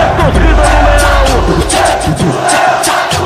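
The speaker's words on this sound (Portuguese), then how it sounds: "Explode, explode a torcida do Leão." Fortaleza supporters at a 2012 Clássico-Rei football match roar after a winning goal, a loud, dense crowd eruption of cheers and shouts.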